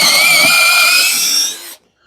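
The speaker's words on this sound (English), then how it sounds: "we can go ahead and drill the hole." A power drill runs a bit through wood while boring a dowel hole guided by a Milescraft Jointmate dowel jig, a steady close high-pitched whine lasting under two seconds before stopping abruptly.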